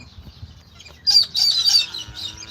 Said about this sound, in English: those are wild pink and grey galahs